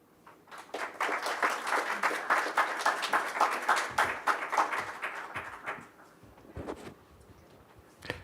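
Applause from a conference audience after national security presentations, a dense wash of clapping that swells for several seconds, then thins into scattered claps before a final few.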